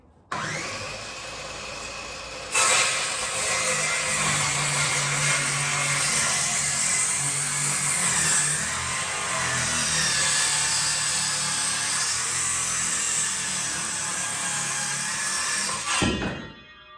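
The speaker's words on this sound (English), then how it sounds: "getting ready to cut our first board, our first collar tie" A power saw cuts through a wooden board for a collar tie while renovating an old outbuilding. The motor spins up and runs loud and steady for about fourteen seconds, then winds down. No voices are heard.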